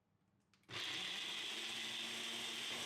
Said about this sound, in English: Then we blend until the oats fully break down and the shake turns smooth